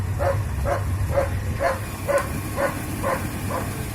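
A big German Shepherd barks steadily, about eight evenly spaced barks, moderately distant, over a constant low engine idle hum from a Saleen SN95 Mustang.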